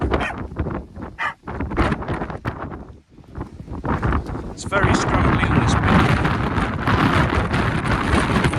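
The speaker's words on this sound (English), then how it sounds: "Trying to stand still with the wind, it's just crazy." Strong mountain wind on the Kentmere Horseshoe in the Lake District roars and buffets the microphone, building to a steady loud rush; someone speaks briefly near the start.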